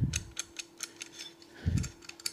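Clicking and ratcheting of the adjusting mechanism on a Parkside adjustable hole saw, a series of light, evenly spaced mechanical ticks with a couple of heavier clunks, close up and alone.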